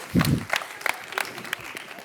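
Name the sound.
audience applause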